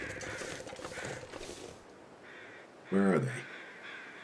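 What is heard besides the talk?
crows cawing in the video game The Long Dark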